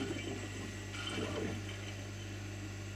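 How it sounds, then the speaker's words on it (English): Cooling water flowing through a laser tube with bubbles passing, a soft gurgling trickle over a steady low pump hum, faint and close. "Watch the water bubbles going through."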